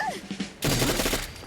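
Hipfired 10mm SMG, an HK MP9 in Fallout 4, rattling off a loud sustained burst of rapid automatic shots that cuts in abruptly after a quieter stretch and runs to the end, with no voice over it.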